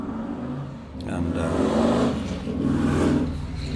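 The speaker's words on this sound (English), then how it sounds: "oh wow, that was a noisy motorcycle." Harley Davidson motorcycle passing by outdoors: a loud, rough engine rumble that builds, swells past and lingers, with a person talking over it.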